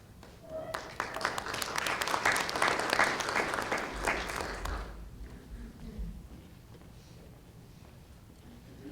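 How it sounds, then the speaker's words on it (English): An audience at a school health advisory council meeting applauds for about five seconds, a moderate steady patter of clapping that stops abruptly, leaving quiet room tone and faint murmurs. "Don't be shy, you can applaud louder"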